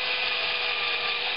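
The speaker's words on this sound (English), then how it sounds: "I'm going to go ahead and just drill this from right here" A power drill bores a hole in wood for a homemade star tracker, giving a steady, close, continuous whine with grinding texture and no pauses, and nobody speaks over it.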